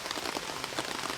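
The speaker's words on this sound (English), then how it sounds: "And just enjoy the rain." Rain patters steadily and close on a surface at a wild camp, a dense, even wash of drops with no voices.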